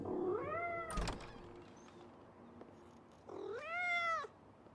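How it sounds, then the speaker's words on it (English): A cat meows outside a back door in Life Is Strange: Double Exposure, two drawn-out rising-and-falling meows separated by a pause, with a short knock near the first. "Probably a cat."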